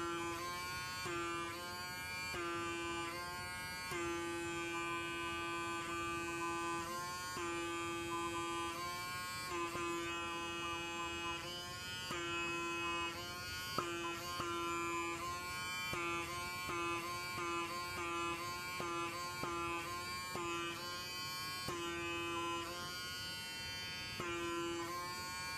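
A PMD PRO at-home microdermabrasion device runs its suction across facial skin, a close electric motor buzz with a steady tonal whine that breaks off and restarts in short bursts as the tip lifts and presses again.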